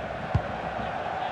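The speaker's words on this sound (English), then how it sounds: "just listen to this crowd. They want a bit more" Stadium crowd in a FIFA 23 Serie A Juventus vs Inter Milan derby, a steady distant murmur and roar of spectators with one soft thump, moderately quiet throughout.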